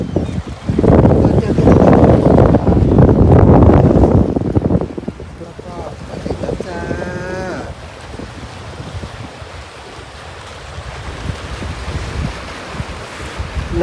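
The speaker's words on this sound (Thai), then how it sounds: "ทุกคนเจ้าค่ะลมจะแรง" Strong wind buffets the microphone by the sea in Sweden, a heavy roar that eases into gusty rushing with surf in the background and a voice speaking.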